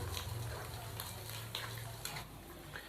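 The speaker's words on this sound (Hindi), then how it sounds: "अदरक और लहसुन के पेस्ट को शामिल करके हम इसको 1 मिनट के लिए फ्राई कर लेंगे" Ginger and garlic paste frying in a pan for fish curry, giving a steady low sizzle with occasional stirring scrapes and clinks of a utensil against the pan.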